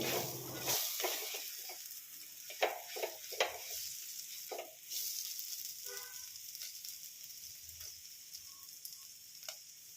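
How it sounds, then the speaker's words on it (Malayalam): Clams being roasted in coconut oil in a pan, stirred with scattered scraping strokes over a soft, steady sizzle; close and moderately quiet, with no talking. "ഇത് അടിയിൽ പിടിക്കാണ്ട് നല്ലപോലെ ഇളക്കിയെടുക്കണം"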